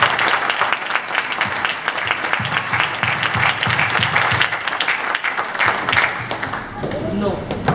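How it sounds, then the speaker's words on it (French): Loud crowd applause with cheering at an opposition political rally in Paris, dense clapping sustained throughout before thinning near the end, with voices mixed in. "Je vous demande donc de faire une grande acclamation"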